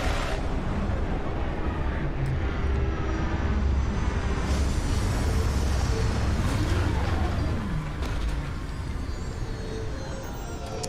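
A spaceship lands in the video game Starfield, its engine roar and rumble sustained and loud throughout, with a low droning thrust and faint mechanical whines, and a voice speaking briefly over it.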